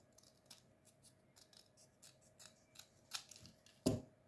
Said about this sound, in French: J'essaie de couper à ras quand même